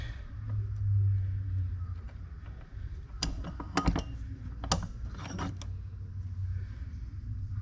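A pipe fitting from a John Deere 6600 air conditioning repair is set in a vise, giving a few close metallic clanks and ratcheting clicks over a low shop hum.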